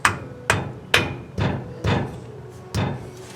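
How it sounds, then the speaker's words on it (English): A cap is tapped onto a tubular control arm during installation on a Chevelle, seven evenly spaced knocks in a steady rhythm, close and sharp, with no voices. "And we're just going to tap this on."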